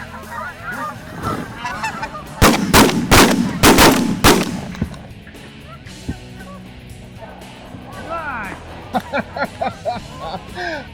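Geese honk repeatedly overhead during a goose hunt, a chorus of calls running throughout, broken by a close burst of several loud shotgun blasts around the middle, with more honking and a few further shots after.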